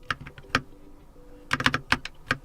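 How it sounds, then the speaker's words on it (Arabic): Keystrokes on a lubed Keychron K2 mechanical keyboard, a few soft taps followed by a quicker burst of close, muted clacks in an uneven rhythm. "والمفاتيح أيضا مدهونة بوضوح، يمكنك أن تسمع ذلك"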